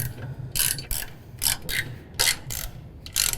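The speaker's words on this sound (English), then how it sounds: "you will need that ratchet and 13mm socket to tighten all of these up" A ratchet with a 13mm socket tightens nuts on a string trimmer bracket for a John Deere Z5 mower, giving short bursts of rapid metallic clicking separated by brief pauses, close by.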